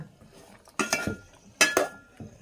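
Utensils clinking against a pot while curry cooks on an electric heater stove, three quick metallic clinks and scrapes spaced about a second apart, close and moderately loud.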